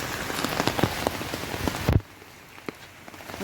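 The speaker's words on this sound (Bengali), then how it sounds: "কত বৃষ্টি" Heavy rain at night, pattering densely on a surface with scattered louder drops, steady and close until it abruptly drops to a much quieter drizzle about halfway through.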